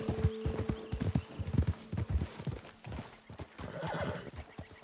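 Horses trotting in Red Dead Redemption 2, close rhythmic clip-clop hoofbeats on the ground with a neigh partway through, continuing without talk.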